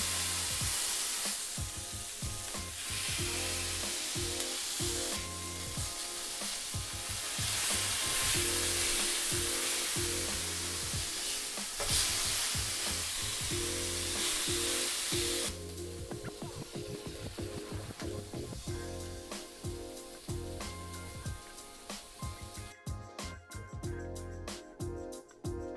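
Thin Big Mac beef patties pressed flat in a hot pan sizzle and fry steadily, a loud continuous crackle with scraping and clatter, with no talk.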